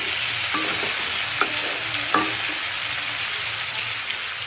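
Potatoes fry with a steady, bright sizzle in a pan, broken by three soft knocks of a stirring utensil in the first half.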